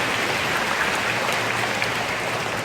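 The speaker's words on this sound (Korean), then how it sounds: "큰 박수 부탁드립니다" Steady, dense audience applause fills the whole stretch at a school admissions information session in a hall, an even wash of clapping without breaks and no voices over it.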